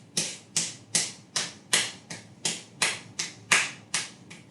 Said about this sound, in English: I can't do it while I clap.